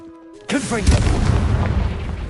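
A Confringo spell explosion in Hogwarts Legacy erupts suddenly as a loud, deep booming blast, then rumbles on without pause after a brief spoken cue.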